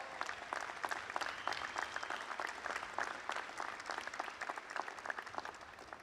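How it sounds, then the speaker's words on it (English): Audience applause at Housatonic Community College's 54th commencement ceremony, a steady sustained clapping from a crowd heard at moderate distance, fairly even throughout with no voices over it. "Let's give him a round of applause."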